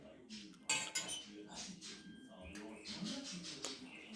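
Spoons clink and scrape against a metal cooking pot in irregular bursts, close by, as someone eats straight from the pot, while people talk quietly in the background.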